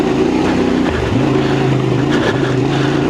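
A CF Moto 450MT motorcycle engine on an off-road trail, a loud, steady throttle drone that dips briefly and climbs again, close and alone.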